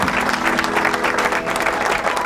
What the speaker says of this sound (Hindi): करताली सहित स्वागत करबा